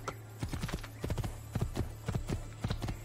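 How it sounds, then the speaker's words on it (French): Horse hooves clip-clopping in the video game Assassin's Creed II, a black horse trotting in quick irregular pairs of hollow thuds over a low steady hum. "on va prendre un cheval"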